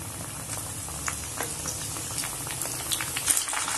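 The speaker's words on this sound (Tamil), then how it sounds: "இப்போ இதை அப்படியே நம்ம ஆயிலில் ஃப்ரை பண்ணி எடுத்துட வேண்டியது" Chicken leg lollipops deep-frying in hot oil, giving a steady, close bubbling sizzle with small crackling pops throughout.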